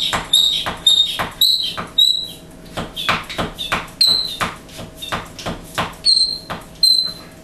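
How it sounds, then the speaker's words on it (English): A Blendtec ICB7 blender container's vacuum pump squeaks in a steady, rhythmic series of about a dozen high, loud squeaks, one for each pump stroke. It sounds like it needs oil, and no other sound competes with it. "That little squeak there needs a little bit of oil."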